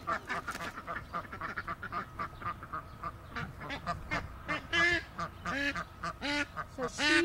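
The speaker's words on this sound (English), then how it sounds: "And then I've got my three ducks back here." A small backyard flock of three ducks on a farm, one a Welsh harlequin, quacks in a steady stream of nasal, honking calls, fairly close but moderately soft, with no talk over them.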